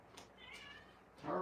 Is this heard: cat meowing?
yes